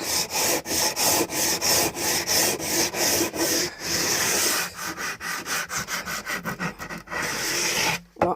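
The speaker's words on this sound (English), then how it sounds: "That's how I sand this thing. That's how I take the edges off." Wooden timber edges are sanded by hand for a PS5 console unit build, giving steady rhythmic rubbing strokes, close and loud, with a few quicker strokes near the end and no talking.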